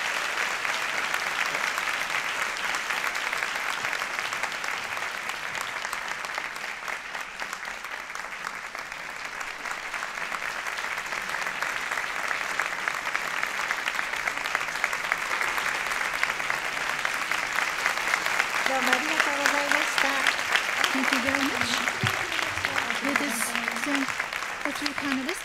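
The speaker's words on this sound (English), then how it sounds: "So we'd like to have a warm round of applause to our young three panelists." An audience at a peace foundation forum claps for three young panelists, steady dense applause that fills the room and carries on without a break, with a voice speaking over it near the end.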